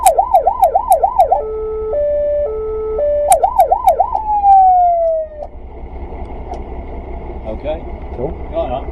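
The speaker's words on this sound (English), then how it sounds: "this will give you the 3 standard siren sounds. Now you've got 3. You've got the yaw, the yelp, and the duotone." A fire engine's siren blasts loudly up close, cycling through a rapid warbling tone and an alternating two-tone pattern, repeating, then gliding down and winding off into a quiet hum.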